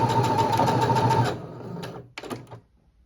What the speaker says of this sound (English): we're going to backstitch again